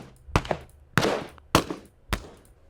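Four sharp gunshots ring out one after another at roughly even intervals, each with a brief echoing tail, loud and isolated with no talking.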